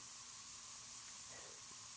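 Steady faint hiss of spray painting in the video game Spray Paint Simulator, a continuous airy spray with no talking.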